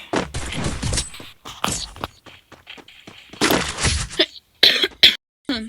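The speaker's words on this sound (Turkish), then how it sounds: "Öksürdüm." Several harsh coughs burst out close to the microphone, followed by a few sharp clattering knocks and short pauses.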